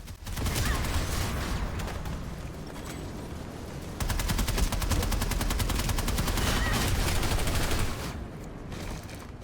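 Rapid automatic fire from an NS-15M in PlanetSide 2, sustained loud bursts of gunshots in a fast, steady rhythm throughout, with a dense stretch in the middle before tapering off near the end.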